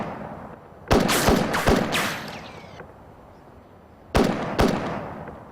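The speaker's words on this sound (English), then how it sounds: "he fires at the ground" Several gunshots crack outdoors in two clusters, three close together and then two more after a pause, each sharp and echoing, with nothing else heard.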